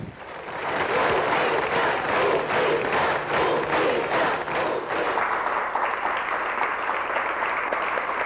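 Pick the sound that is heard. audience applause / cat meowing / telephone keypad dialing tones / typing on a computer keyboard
audience applause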